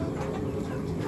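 Local free-range chickens cluck and murmur in a short, dense burst of overlapping bird calls at moderate distance, with no talking.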